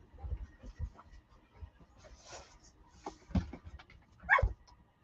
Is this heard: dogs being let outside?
yes